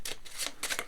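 A tarot card slides out of the deck in a brief papery swish, made of a few quick, close rustles lasting under a second.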